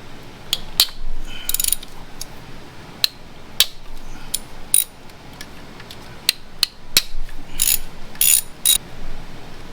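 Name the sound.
ratchet removing T30 Torx bolts from BMW N55 servo motor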